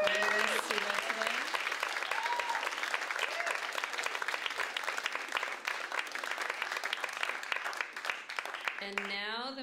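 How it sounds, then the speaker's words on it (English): An audience at a Seattle poetry event claps for the panelists of the poet populist finals, a steady, dense burst of applause filling the room that fades slightly near the end as a voice begins speaking. "Could I ask you to give a round of applause to all of our panelists who are today?"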